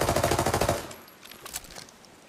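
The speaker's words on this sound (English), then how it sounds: "Oh, gunshot." Rapid automatic gunfire in the shooter game Arena Breakout, a loud burst of evenly spaced shots that cuts off, followed by fainter scattered distant shots and game ambience.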